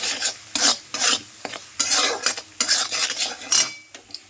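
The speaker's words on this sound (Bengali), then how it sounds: "এবার মশলাটার সঙ্গে ভালো করে সব মিশিয়ে নেব" A spoon scrapes and rasps around a bowl or pan, stirring spice paste for mustard hilsa (sorshe ilish) together with salt and turmeric, in repeated close, loud strokes with short pauses between them.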